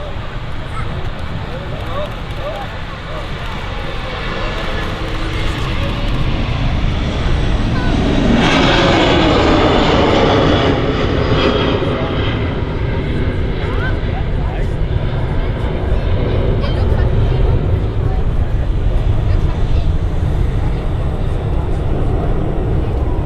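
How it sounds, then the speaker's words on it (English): A Turkish Airlines Airbus A330 in a special livery rolls for takeoff at Manchester Airport, a dense broadband jet roar that swells around the midpoint and stays loud, with a voice talking over it. "Turkish 330 on a roll with a special livery"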